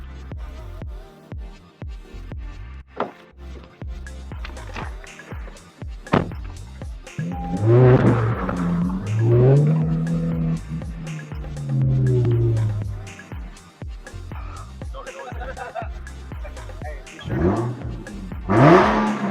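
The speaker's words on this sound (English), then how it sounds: "that's a lot more intake sound" A car engine rises and roars as it accelerates, with strong intake noise building and falling back, plus some thumps and a few voices.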